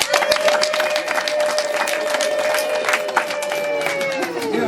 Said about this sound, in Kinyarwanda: Geresira amashyi nsabye